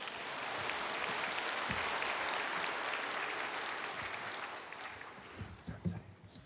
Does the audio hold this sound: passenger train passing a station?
no